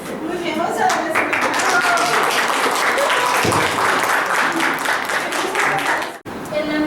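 A crowd at a national family-counseling and mediation congress gives a sustained round of applause, loud and dense throughout. A brief dropout comes near the end.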